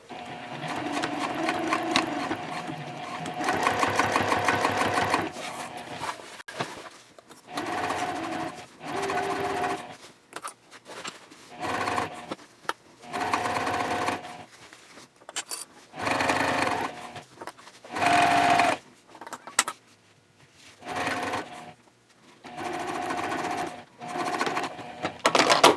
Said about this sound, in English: now we will sew everything together with a 1/4 inch seam